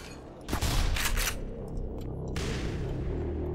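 A grenade blast in Black Mesa lands as a loud sharp burst with bright crackling debris, followed by a sustained noisy rumble of gunfire and game ambience.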